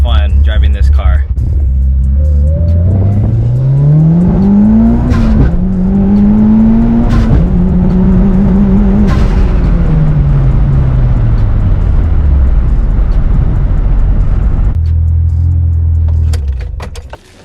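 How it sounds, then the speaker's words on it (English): A tuned Mitsubishi Evo 8 with anti-lag, 360 whp on its stock turbo, accelerates hard on a road, engine climbing through gears loud and close, with a voice heard briefly at the start. "I'm gonna go ahead, drive down the road, do a little rip."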